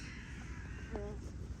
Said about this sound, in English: That's the sound of a jackdaw.